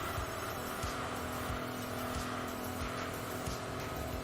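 A BMW Z8 driven in the racing game Enthusia Professional Racing: a loud, steady engine drone with tire squeal and rhythmic road thumps, continuous and close, with no talk.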